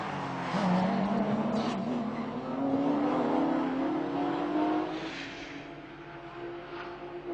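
Porsche 997 race cars battle through a corner at Magny-Cours, engines rising in a long climbing whine as they accelerate out, fairly close, with a second car audible behind.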